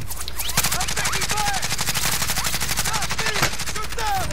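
Rapid automatic gunfire in a video game rattles in long continuous bursts, loud and close, with faint voices underneath.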